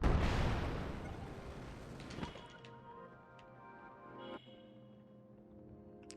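Rocket shields fire in The Legend of Zelda: Tears of the Kingdom, a loud whooshing blast that fades over a couple of seconds, followed by quieter clanks and a fading tonal hum.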